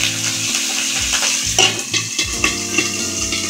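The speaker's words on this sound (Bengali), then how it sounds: "কাঁচামরিচগুলো আমি ছেড়ে দিলাম, জালটা কমিয়ে দিয়ে দিন" Green chilies frying in a spice mixture in a pan, a loud bubbling sizzle with scraping and stirring knocks that grow busier partway through.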